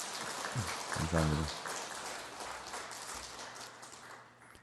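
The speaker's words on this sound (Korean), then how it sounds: "여러분 축하의 박수 한번 쳐주세요" Church congregation clapping to congratulate their newly married choir conductor: a sustained, even patter of crowd applause that fades toward the end, with someone briefly speaking over it.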